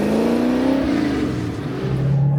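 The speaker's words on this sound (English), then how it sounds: "Let's take this beautiful blue 67 for a ride" A blue 1967 Ford Mustang Fastback restomod with a 427 small-block stroker and five-speed pulls away, its engine droning loud and close as the pitch climbs and then settles after a shift.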